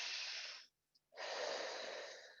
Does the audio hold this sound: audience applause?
no